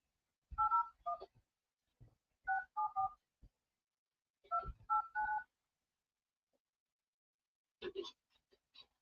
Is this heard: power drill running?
no